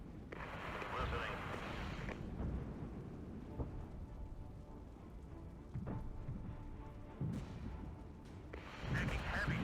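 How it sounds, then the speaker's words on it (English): Heavy gunfire and artillery blasts in the Regiments war game, with a dense rumble of bursts and impacts throughout and louder volleys near the start and end, mixed with voices. "Taking heavy direct fire."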